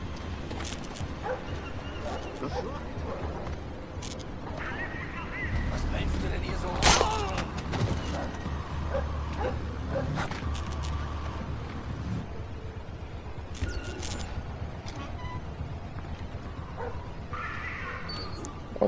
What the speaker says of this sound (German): Jetzt aber schnell, der Hund kommt wieder.